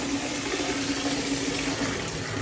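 Water runs from a tap into a bubble bath, a loud steady rushing gush with an even hiss and a low hum throughout, close up with no breaks.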